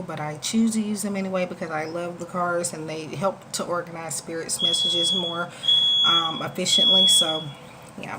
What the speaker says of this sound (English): that is my smoke alarm going off